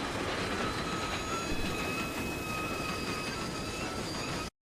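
A steam train in an anime scene rolls past close by, a steady loud rumble of wheels and rail noise with faint squealing tones, continuous until it cuts off abruptly near the end.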